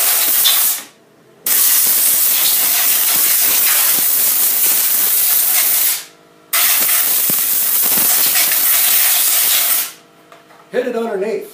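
Compressed air blasting loudly and steadily over a chainsaw to clean it out, in three long bursts separated by brief pauses, harsh broadband hissing close to the listener.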